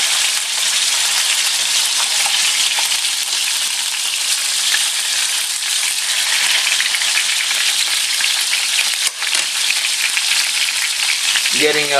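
Pork chops frying in a pan, giving a loud, continuous, close-up sizzle of hot oil for the whole stretch, with a brief knock near the end.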